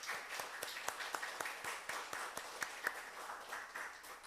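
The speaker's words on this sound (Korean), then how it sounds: "이분들을 박수로 환영하겠습니다" Church congregation clapping to welcome new members at a Sunday worship service, a thin, scattered patter of hands with sharp individual claps standing out, fairly quiet and steady throughout.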